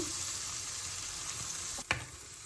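Kerala-style Avoli fish curry stirred in a hot pan, a steady loud sizzle throughout with one sharp clank of the spoon near the end, no talk.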